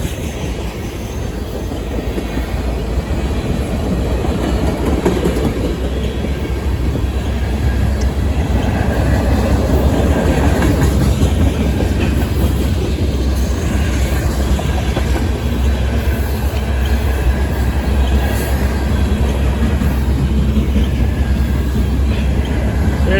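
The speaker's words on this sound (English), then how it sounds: "Rail train is moving." A rail train of freight cars rolls steadily along the tracks, a continuous loud rumble with clickety-clack wheel rhythm and faint squeals, no voices over it.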